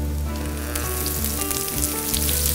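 Chopped onion sautés in oil in a very hot frying pan, giving a dense, steady sizzle that crackles continuously and close throughout.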